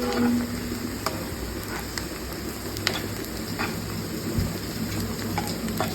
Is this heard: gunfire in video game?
no